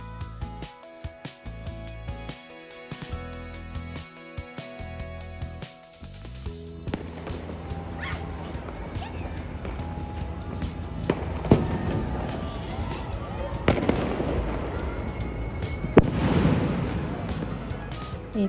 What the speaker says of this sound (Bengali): এই তো নতুন বছরের আগমনে পুরো ঢাকা শহরবাসী একসাথে ফায়ার ওয়ার্ক করছে